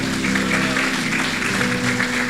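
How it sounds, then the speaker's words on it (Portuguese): A congregation applauding during a church worship night, a dense, even wash of many hands clapping together, steady and fairly loud with held music tones underneath. "você pode aplaudir a Jesus pela vida do João"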